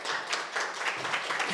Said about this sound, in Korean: 대표님을 큰 박수로 환영 부탁드리겠습니다